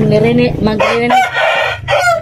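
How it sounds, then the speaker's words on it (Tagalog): A rooster crows loudly and close, a long strained call that fills the whole moment with no other voices. "ang ingay ng manok talaga at tapos ang lakas ng boses ng manok"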